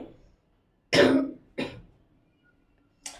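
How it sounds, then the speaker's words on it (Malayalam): A person with a winter cough coughs close by: one strong burst, a second shorter cough, then a small third one after a pause, with silence between. "ചുമയൊക്കെയാണ് ഇടക്കിടക്ക് ഒരു സൗണ്ട് ഇത് ഇങ്ങനെയാണ് വരുന്നത് കേട്ടോ"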